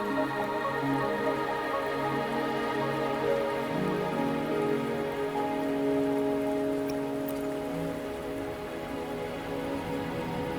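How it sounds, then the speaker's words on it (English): Steady rain patters on surfaces in Wuthering Waves, a continuous even wash with a low tonal music bed underneath, no voices. "Are you trapped here by the rain?"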